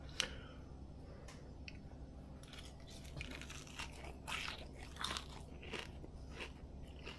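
Fish and chips being bitten and chewed up close, with repeated crisp crunches and soft chewing sounds over a low steady background hum.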